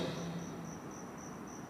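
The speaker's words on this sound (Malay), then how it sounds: "ini cengkerik namanya." A cricket chirps in a steady, high, pulsing trill over a soft background hum, faint and continuous with no talking.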